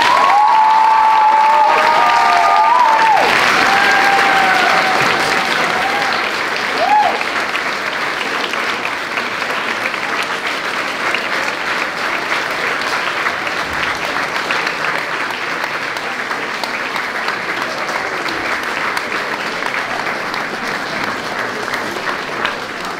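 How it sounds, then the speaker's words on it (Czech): Audience applauding at a school Christmas event, sustained loud clapping from a large crowd that tapers slightly over time, with brief tones and a voice near the start. "Takže bych poprosila o velký aplaus pro Julii Anu Richterovou."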